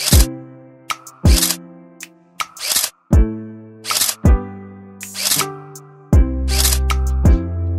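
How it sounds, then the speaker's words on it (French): A camera fitted with clip-on phone lenses snaps a series of photos, about seven sharp shutter clicks spaced a second apart, each with a short tonal beep, close and clear with no talking. "Je vous fais la première photo avec la première lentille"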